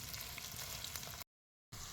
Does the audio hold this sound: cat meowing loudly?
no